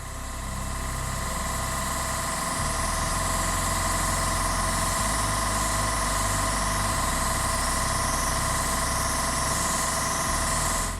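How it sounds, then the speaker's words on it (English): A noisy airbrush compressor runs continuously nearby, a loud steady mechanical hum and whine with slight rhythmic shifts in its drone, no talking. "And there it is, my noisy compressor going off."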